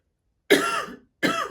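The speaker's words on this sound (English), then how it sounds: "I need to cough again." Two close, harsh coughs separated by a short pause, each a raspy burst with no other sound around them.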